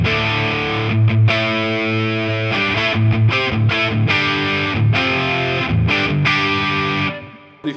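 An Epiphone Slash electric guitar with two ProBucker pickups plays a crunchy, distorted riff of chords and stabs with brief gaps between them, loud and up close, then stops.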